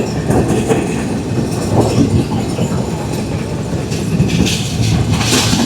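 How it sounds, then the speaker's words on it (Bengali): On board the Rupsha Express passenger train passing Hili railway station in Bangladesh, a loud steady rumble of carriages with rhythmic wheel clatter and rattling continues throughout, with no one speaking. "আর আমরা পার করছি হিলি রেলওয়ে স্টেশন।"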